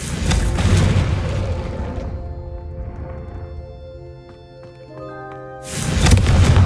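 Confringo blasting spells striking candelabras in Hogwarts Legacy: a loud, close booming blast followed by ringing, sustained metallic tones, then a second heavy boom at the end.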